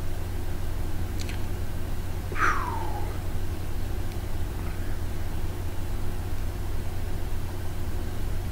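A single cat meows once, fairly faint, over a steady hum of engine or room noise, with a brief faint chirp just before it.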